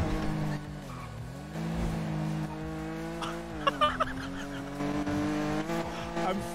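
Toyota Supra driven fast in a video game, a steady loud engine drone that rises and shifts in pitch as it accelerates, with brief tyre noise partway through and no voices over it.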